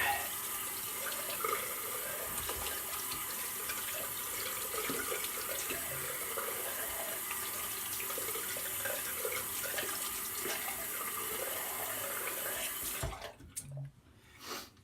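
Running tap water for rinsing off after a shave, a steady close splashing stream that cuts off near the end, leaving a few drips and small handling noises.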